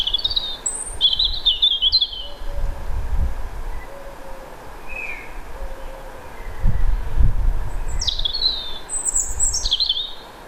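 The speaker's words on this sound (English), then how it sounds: "Is this robin roosting nearby tonight?" A robin sings in short, high chirping phrases near its roost at dusk, with clear bursts at the start and again near the end, over a low steady rumble and rustle of background noise.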